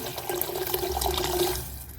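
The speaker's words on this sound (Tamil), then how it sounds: "இப்போ தண்ணி ஊற்றலாம்" Water pours steadily into a cooking pot while rice porridge (nombu kanji) is prepared, a continuous close splashing rush lasting about two seconds before easing off slightly at the end.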